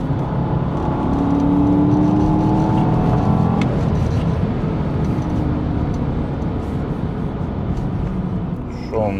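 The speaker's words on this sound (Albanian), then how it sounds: "Edhe me 3000 xhira tani jep gaz." A Porsche Panamera Turbo accelerating from about 3000 rpm, its engine heard from inside as a dense, loud roar with rising tones and road noise, steady throughout with a brief click near the middle.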